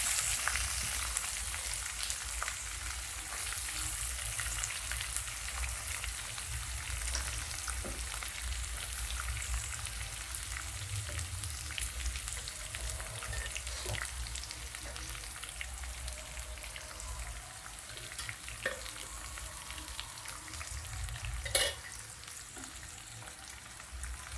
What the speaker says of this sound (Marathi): त्यातच आपण कांदा टाकून घेऊया.